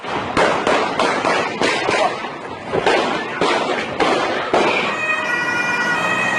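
Gunshots ring out during a shooting in a busy Munich shopping area, a rapid series of loud, sharp cracks in quick succession with echoing reverberation, followed by a wailing siren tone.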